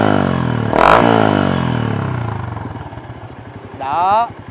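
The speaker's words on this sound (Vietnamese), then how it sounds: "cây bô King Rắc cổ, bô inox 304 kết hợp lon bô King Rắc các bạn nhá" A Yamaha Exciter 150 motorcycle fitted with a King Rắc stainless 304 exhaust revs sharply up close, then settles into a lumpy idle, followed by another short rev.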